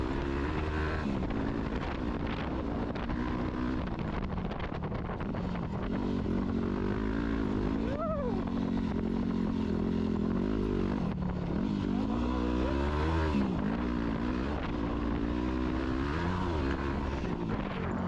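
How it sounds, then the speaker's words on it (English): A dirt bike with a loud exhaust drones continuously on a trail ride with water crossings and hill climbs, the engine note rising and falling with the throttle, close and loud throughout with no talking. "it's because of the loud exhaust, I just have to wear earplugs"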